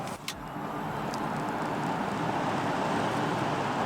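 Hyundai Ioniq 5 N electric car accelerating hard in N Grin Boost mode, heard from inside as a steady, loud broadband rush of wind and road noise that builds and holds throughout.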